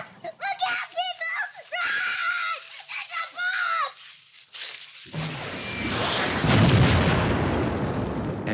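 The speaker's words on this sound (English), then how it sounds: "Run! It's a bomb!" A bomb explosion bursts in after a stretch of screaming and shouting voices, a loud, broad roar of blast noise that swells and rumbles for several seconds.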